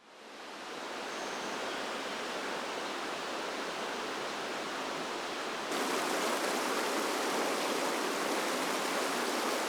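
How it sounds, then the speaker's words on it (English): Running water from a stream beside a bikepacking campsite in the Pacific Northwest, a steady broadband rush that fills the whole stretch, close and unchanging, with no voices over it. "Everything's by running water"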